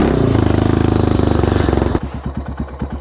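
A Suzuki DR650 motorcycle rides an off-road trail near Moab, Utah, over rocky ground. The engine gives a steady, close, buzzing thrum, then drops to slower, punchy chugging pulses as the throttle eases.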